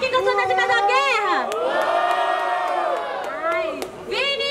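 At a boom bap rap battle final, a crowd cheers and claps, with shouts and whoops rising in loud bursts around held vocal cheering from many voices.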